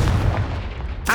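Confringo fire spell blast in the video game Hogwarts Legacy: a loud, booming burst of spell fire rolling for about a second, ending with a brief sharp crackle.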